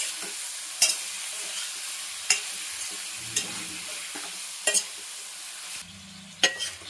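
Eggplant and potato curry being stirred in oil with salt, a soft continuous sizzle broken by a few sharp spoon scrapes and knocks against the pan, with no voices.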